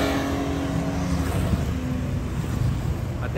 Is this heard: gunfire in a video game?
no